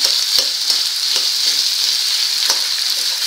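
Potato and peanut bhaji for a fasting day fries and gets stirred in a pan. A loud, close, continuous sizzle fills the whole stretch, broken by a few light scraping knocks from the spoon.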